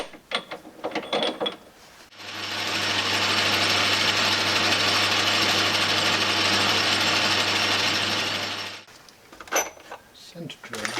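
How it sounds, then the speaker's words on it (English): A metal lathe facing off the ends of mild steel runs with a steady mechanical whir and a harsh scraping cut for several seconds, starting and stopping between brief bits of workshop noise and speech. "So over to the lathe next. First job is to face off the ends and make them nice and square."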